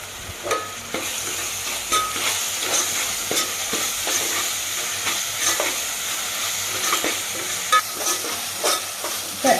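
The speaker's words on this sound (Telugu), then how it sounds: "అల్లం వెల్లి పేస్ట్ పచ్చివాసన పోయేలా వేయించండి" Ginger-garlic paste and green masala frying in a pan for a chicken drumstick curry, a steady close sizzle with repeated stirring scrapes at an uneven rhythm, no voices.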